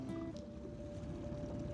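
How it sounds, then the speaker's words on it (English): A cod fishing boat's engine idles on a fjord, a faint, steady low drone with a thin, constant hum and no break over the short stretch. "So I just leave the engine running."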